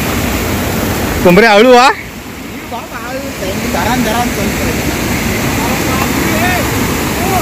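Saitwade waterfall in a violent, dangerous surge: a constant broadband roar of crashing water that runs throughout, with people talking and exclaiming over it and a brief high wavering voice near the start.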